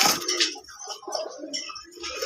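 A male Soya Chandan fancy pigeon calls at close range in a few short, soft cooing bursts, with light clattering in the background.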